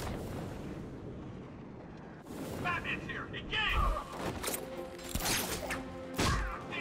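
Video game gunfire, several loud sharp shots and bursts in the second half, mixed with other in-game sounds and a person talking.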